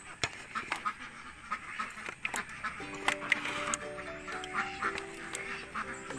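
Laying ducks quacking repeatedly at close range as wet feed mixed with water is given to them in their pen, sharp clustered calls over a busy background, with some voices nearby.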